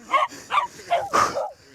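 A sled dog barks four times in quick succession, close and fairly loud, with short pauses between barks, in Norway.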